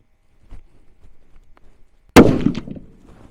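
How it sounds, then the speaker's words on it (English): A single loud, sharp rifle shot from a 300 PRC rifle firing factory ammunition cracks out at close range and decays quickly, preceded by quiet handling clicks and rustles. "This is going to be the first 3-shot group out of this gun."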